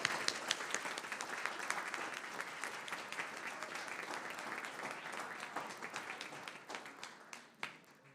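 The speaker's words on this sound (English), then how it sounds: "let's give Spiegelville a round of applause." A round of applause at a board meeting, many hands clapping steadily for several seconds before thinning out into a few last claps.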